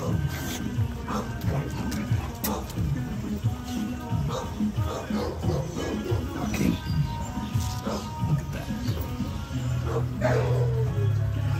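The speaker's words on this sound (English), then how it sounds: "That's a high caliber dog." Dog barks and yips from a large bully-breed dog recur through a noisy outdoor scene, mixed with crowd chatter and background noise at moderate level.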